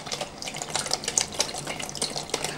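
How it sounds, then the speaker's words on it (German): Water pours into a pot of ground-meat and vegetable stew to rinse the sides, a close, uneven splashing and trickling with small bursts, no one speaking. "Ich mache das Wasser erst hier rein. Dann hier rein."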